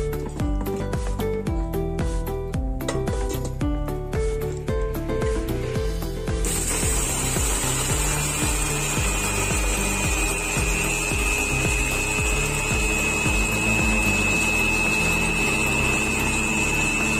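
A kitchen mixer grinder grinds rice and chickpeas. Rapid rattling clicks come first, then give way to a steady, loud motor whir with a high whine that runs unbroken to the end.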